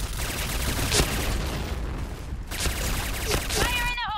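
MP5K submachine gun fire in the video game Point Blank, loud rapid bursts of shots with booming impacts, heard beneath someone talking excitedly.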